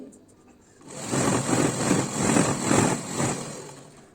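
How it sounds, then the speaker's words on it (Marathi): A sewing machine stitches a green fall onto a saree edge, running in one steady close whirring burst of about three seconds after a quiet start. "तर याच पद्धतीने आपल्याला शेवटपर्यंत पूर्ण शिलाई करून घ्यायची आहे थांबत थांबत हळुवारपणे आपल्याला शिलाई करून घ्यायची"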